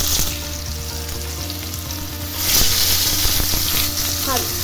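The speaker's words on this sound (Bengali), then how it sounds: "এবারে ওই তেলেই আলু যেগুলোকে মাখিয়ে রেখেছিলাম নুন হলুদ দিয়ে, সেইগুলো হালকা করে ভেজে নেব।" Potatoes coated with salt and turmeric fry in oil left over from frying eggs for an egg curry. The close sizzle swells louder about halfway through, with soft tonal sounds and a hint of voice behind it.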